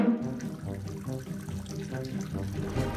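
Water pours and splashes steadily from a leaking roof into the room indoors, a continuous moderate trickle with a faint hint of voices in the background.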